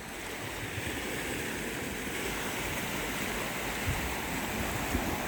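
Steady wash of waves breaking on a shore at night on Koh Kood island, a continuous soft roar with no distinct individual crashes, moderately quiet.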